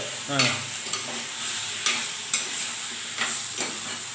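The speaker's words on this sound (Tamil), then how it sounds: "ரொம்ப வதங்க விடாம போட்டு ஒரு கரை செட் கரட்டிக்கலாம்" Drumsticks and greens are stir-fried in a pan, a soft steady sizzle broken by several quick scraping stirs of a spoon, close up and without speech.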